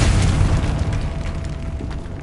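A Confringo fire spell explodes in Hogwarts Legacy: one loud, dense boom that rolls on for a couple of seconds with a crackling, rumbling tail and no talk over it.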